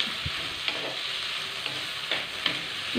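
Two medium tomatoes cooking with onions in a pan, a soft continuous sizzle with occasional scraping stirs and light taps of a spoon, no voices.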